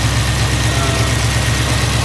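A steady, loud, low engine rumble from a 1971 Chevy Blazer with a stroker engine and Holley Sniper setup idles close by, unchanging and without any talking.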